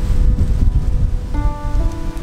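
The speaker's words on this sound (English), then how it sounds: "We've been getting absolutely blasted by wind and rain." Loud, rough rushing noise of wind gusts with rain on a remote Arctic river, buffeting throughout; a faint tonal hum enters partway through.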